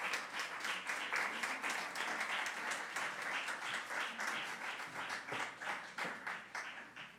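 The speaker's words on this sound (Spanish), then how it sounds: "les pido que les demos un aplauso a los participantes" Audience applause for participants at a university event on preventing digital violence against women and girls, a steady round of distant, moderately quiet clapping that rolls on for several seconds with a rhythmic, uneven pulse.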